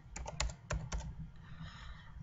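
Quiet typing on a computer keyboard, a few distinct key taps in a short burst followed by softer, faint clicking, close and alone.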